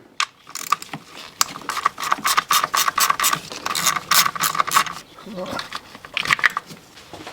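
A ratchet works an 8mm bolt on a Ford engine during a valve cover gasket job, making close, rapid bursts of clicking that come in quick runs with short pauses, and a voice is heard briefly.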